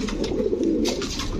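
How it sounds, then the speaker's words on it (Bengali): A pair of very large fancy pigeons coos steadily at close range on a pigeon farm, a low, continuous throaty cooing with no talking. "অনেক বড় সাইজের এক জোড়া কবুতর"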